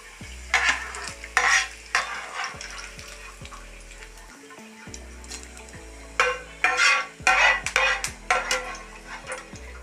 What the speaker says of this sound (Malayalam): നമ്മൾ വെച്ച ഇഞ്ചി നന്നായിട്ട് ഫ്രൈ ആയി